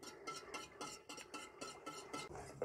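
Milk stirred continuously in a pot as it heats toward a boil, a spoon scraping the pot bottom in steady rhythmic strokes, close and moderately loud with no talking.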